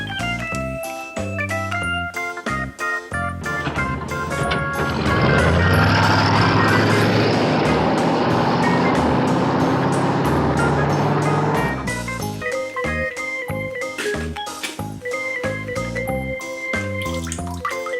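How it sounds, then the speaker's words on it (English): A toy pickup truck plays its electronic sound effects: a busy run of synthetic beeps and tones, a louder noisy middle stretch, then more chiming tones, with no talk. "pickup truck."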